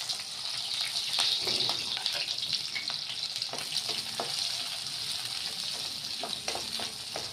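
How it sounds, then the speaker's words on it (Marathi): Chopped onion and three or four green chillies fry in a pan with a soft, continuous sizzle, broken by occasional stirring scrapes and light clicks, fairly quiet and with no voices. "कांदा थोडा तांबूस होईपर्यंत शिजू द्यायचा आपल्याला"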